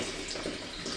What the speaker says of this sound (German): Und wir sehen, wie wunderbar der letzte Tropfen hier rauskommt.